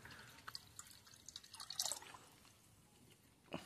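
Water mixed with ash is poured into a container, giving faint scattered drips and small splashes followed by a brief louder trickling pour, quiet and close.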